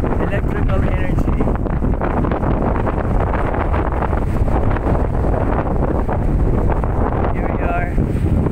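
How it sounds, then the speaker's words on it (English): Strong sea wind at the Bangui wind turbines in Ilocos Norte, a loud, constant roar buffeting the microphone throughout, with faint voices barely audible beneath it. "Wind from the sea."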